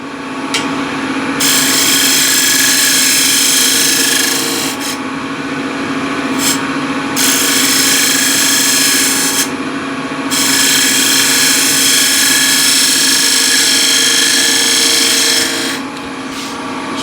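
A gouge cuts a wooden bowl turning on a lathe, giving a loud, steady scraping rasp over the motor's hum, with brief breaks and resumptions as the tool is lifted and reapplied to follow the cut.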